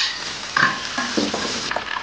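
Stir-frying in a pan in a Guizhou home kitchen: a spatula scrapes and clanks against the pan over a steady sizzle, with a few sharper metallic knocks, close by.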